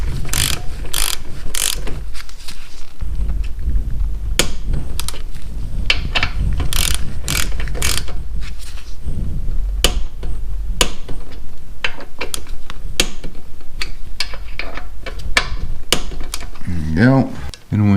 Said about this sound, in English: I'm going to tighten these to 25 foot-pounds.